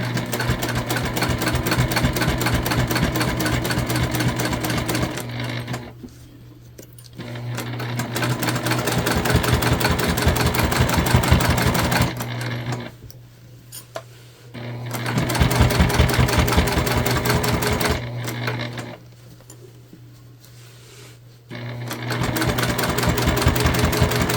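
A sewing machine stitching the sides of a knot handbag together, running in three steady loud bursts of rapid rhythmic stitching separated by short pauses.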